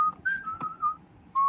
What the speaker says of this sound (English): Whoever's whistling